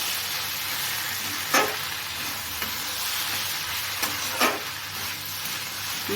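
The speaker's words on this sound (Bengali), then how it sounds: "ভালো করে নেড়ে দেব" Cucumber curry with turmeric stirred in a pan, a steady close sizzle of frying with two sharp scraping strokes of the spoon against the pan.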